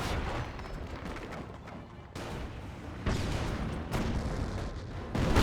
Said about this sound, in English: Tetrarch firing away.